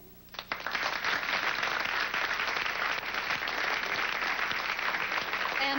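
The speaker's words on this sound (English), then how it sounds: "I would like you to give some applause to a woman who functioned as my co-chair, Bobby Jones." An audience at a show bursts into applause, the sustained clapping starting quickly and staying loud and dense right to the end, with no talking heard.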